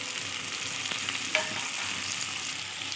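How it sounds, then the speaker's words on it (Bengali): Cut pumpkin drops into onions frying in a clay pan, giving a soft steady sizzle with a single sharper clatter of stirring midway, quiet and close, with no talk. "আমি এবার দিয়ে দিচ্ছি কেটে রাখা কুমড়ো,"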